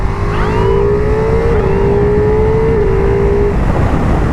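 Ducati Multistrada V4S motorcycle accelerating hard on the road, its engine note climbing steadily through the gears with brief shift dips, loud and close over constant wind and road roar.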